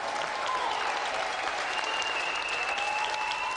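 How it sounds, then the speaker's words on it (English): Studio audience on the Games Master show gives steady, sustained applause throughout, loud and dense, with a few faint whistles rising above the clapping. "let's have a round of applause again for our gallant loser"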